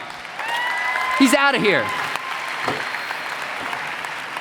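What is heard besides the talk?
audience applause at a youth conference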